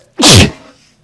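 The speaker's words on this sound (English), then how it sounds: "I'm going to be sneezing a lot in this video probably." A single loud, abrupt sneeze, close to the listener, during bed frame assembly, followed by a short fading tail and near silence.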